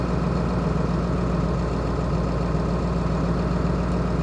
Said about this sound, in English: See if it goes back up to that almost 900 something idle.